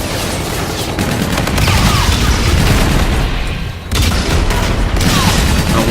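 Loud, sustained automatic fire from the NV4 Flatline rifle in Call of Duty: Infinite Warfare, dense booming bursts that run almost continuously with one brief pause partway through.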